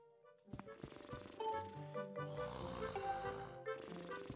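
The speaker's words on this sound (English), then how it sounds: "Of course the mom snores loudly." In The Legend of Zelda: Skyward Sword HD, the mother character snores loudly, with long rasping breaths over a bed of game music and sound effects.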